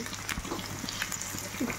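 Ginger garlic paste frying with onions sizzles steadily in a hot pan for chicken kosha, with occasional scraping stirs and light clinks, fairly close and moderately quiet.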